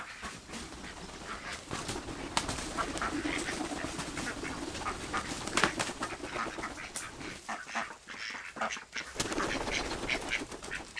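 Farm ducks and geese quack and honk in a busy flock, overlapping calls continuing throughout with some birds close by.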